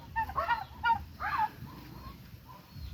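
Penned turkeys on a farm give several close, honking calls in quick succession over low background noise.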